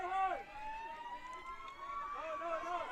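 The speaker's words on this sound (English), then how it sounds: "Sirens in the background." Wailing sirens of emergency vehicles sweep up and down in the distance behind an outdoor ultimate frisbee match on flat open ground at Pola Marszove, with crowd and play noise continuing underneath.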